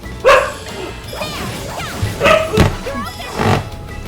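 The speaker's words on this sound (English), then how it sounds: "People are complaining about you barking so much" A husky barks in the Trails through Daybreak video game, several sharp yips and barks in bursts amid game sound effects and crashing hits, fairly loud and close.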